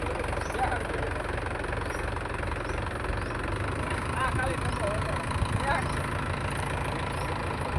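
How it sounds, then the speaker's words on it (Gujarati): A steady, rumbling Mahindra Yuvo 575 tractor engine idling nearby, its low knocking throb continuous throughout under background noise. "મહિન્દ્રા જીઓ ટ્રેક્ટર છે પાંચસો પંચોતેર"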